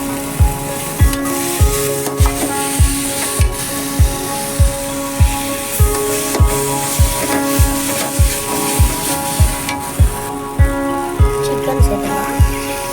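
Chicken sautéing in a pan for chicken biryani, loud continuous sizzling over a repeating rhythmic thump and steady background music.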